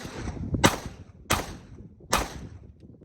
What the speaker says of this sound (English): Let's see if we notice any difference firing 5 more rounds downrange.